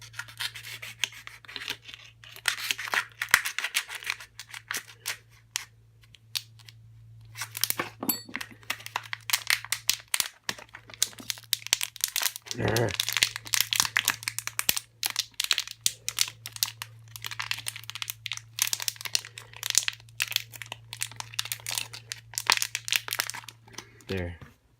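A plastic beetle larva container for Phalacrognathus muelleri is cut open by hand with scraping, crinkling and rubbing close up, while a steady low hum runs underneath and someone talks throughout.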